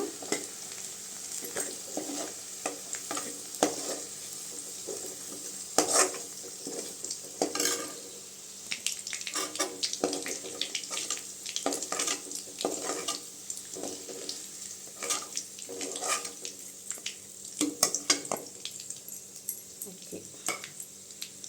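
Onions for tomato chutney sautéing in a pan, a soft sizzle broken by frequent clinks and scrapes of a spoon stirring against the metal, close and fairly quiet.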